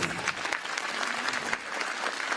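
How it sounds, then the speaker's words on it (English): An audience at a Bharatanatyam arangetram dance debut applauds, a full, continuous patter of many hands clapping at moderate volume throughout, with no voices standing out. "Give her a big applause to her."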